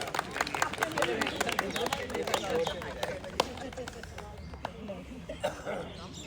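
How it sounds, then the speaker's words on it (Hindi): Applause at a Republic Day yoga celebration comes as many scattered claps from a gathered audience, fairly close, gradually thinning out toward the end, with a voice speaking over part of it. "एक दफा जोरदार तालियां इनके लिए बजा दी जाए"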